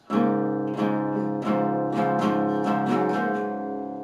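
A guitar plays the second part of a main riff on the bottom three strings, a clear solo run of ringing chords and picked notes with no talking.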